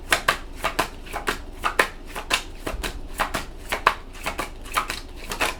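Tarot cards are shuffled repeatedly at close range, a fast series of crisp riffling bursts in an uneven rhythm with no speech.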